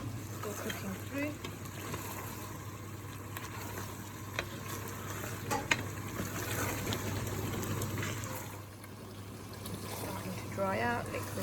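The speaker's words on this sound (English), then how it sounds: "still on high heat, still mixing only occasionally, getting a bit splashy" Spinach and lamb palak gosht cooks over high heat in a pan, its liquid bubbling and splashing in a steady, close sizzle that carries on throughout.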